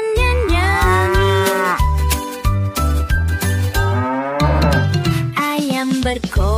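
Children's song with repeated moo-like tones riding the melody, a voice or instrument imitating a cow over a bouncy rhythm, loud and close.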